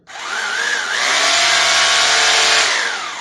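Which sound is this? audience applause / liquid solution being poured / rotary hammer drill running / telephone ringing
rotary hammer drill running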